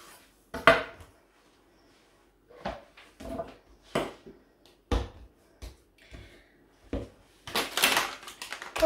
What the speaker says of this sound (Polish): Teraz zabierzemy się za wałkowanie.